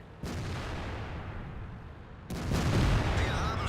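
Two loud booming shots from a PzIV tank gun in World of Tanks, each a sharp blast followed by a rumbling decay, spaced about two seconds apart.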